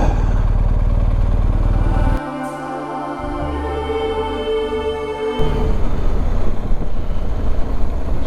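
A motorcycle engine runs loud and close while the rider makes a U-turn on a busy street in York, with a dip in revs and a shifting tone partway through before the engine note rises again.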